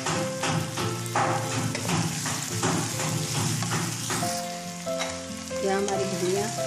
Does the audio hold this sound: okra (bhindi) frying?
yes